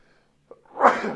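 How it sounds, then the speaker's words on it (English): A single close, forceful sneeze bursts out after a short quiet intake of breath. "I'm going to get the sneezes out before Thursday night"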